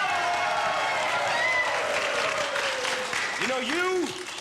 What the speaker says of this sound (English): I want to hear a great Piper's Opera House cheer from everyone here.